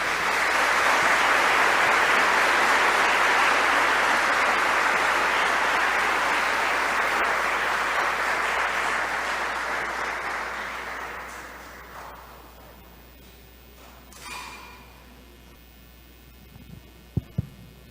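A congregation at a wedding Mass claps loudly and steadily for about ten seconds, then the applause fades away into a quiet room with a few soft knocks.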